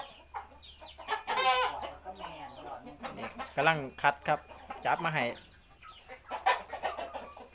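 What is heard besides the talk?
fighting cocks clucking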